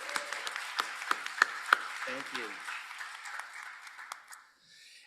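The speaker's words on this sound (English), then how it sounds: "So can we give them a round of applause?" An audience applauds commission members at a spring meeting, with a few sharp claps rising from scattered clapping that thins and fades out, while someone briefly speaks over it.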